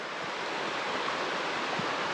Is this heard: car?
no